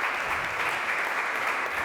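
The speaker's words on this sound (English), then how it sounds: "I know I'm at the opening end and you just applauded" Steady, dense applause from an audience at an evening event on Japanese art conservation, filling the whole moment at an even level with no voices over it.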